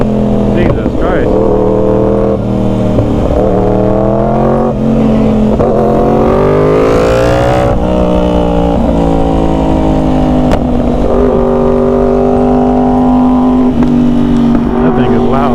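A Yamaha R1 sport motorcycle engine revs and accelerates hard and very loud and close for about fifteen seconds, its pitch climbing and dropping through gear changes in a continuous high-powered roar.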